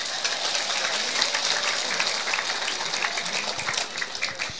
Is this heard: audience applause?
yes